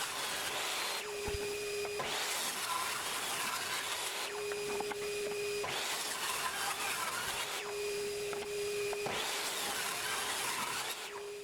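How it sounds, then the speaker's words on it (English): Repeated passes of a table saw ripping a maple 1x6 board into square pieces: a steady loud whine swells into a rough cutting roar about four times in a regular rhythm, close and continuous, with no talk. "From this maple 1x6 or 8, on the table saw, no joiner"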